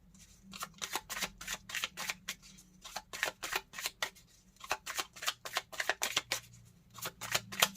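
Tarot cards being shuffled and drawn from the deck, a long run of quick crisp riffling bursts in uneven clusters with brief pauses between them, close up and fairly quiet, with no talking.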